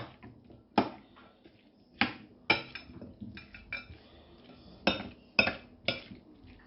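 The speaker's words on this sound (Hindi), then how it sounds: "अब मैं इस सब चीज़ों को अच्छी तरह जो है ना वो मिक्स करूँगा" Russian salad with pasta being mixed in a bowl, a spoon repeatedly clinking and tapping against the bowl's side in an irregular rhythm, close and fairly quiet with soft wet stirring between strikes.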